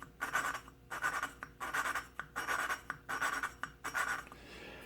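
A Honda XL125 valve seat is lapped with grinding compound, giving a close, soft, gritty scraping in regular strokes with brief pauses as the valve is turned and lifted, repeating about five times.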